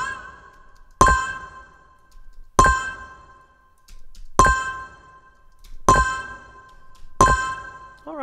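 Synthesized mobile notification chime built in Cubase/Nuendo with modulation and chorus, sounding as five bright bell-like dings at even intervals of about one and a half seconds, each ringing out and decaying alone with no talk.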